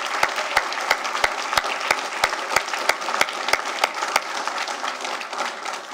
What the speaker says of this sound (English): go ahead and clap for the candidates